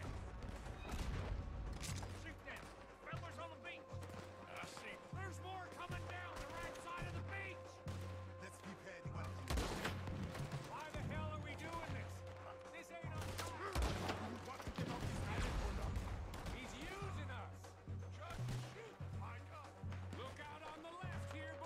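Cannon blasts and rapid gunfire crackle through a Red Dead Redemption 2 gunfight, with repeated booms and dense shots layered over a steady low rumble and music, continuous and loud throughout.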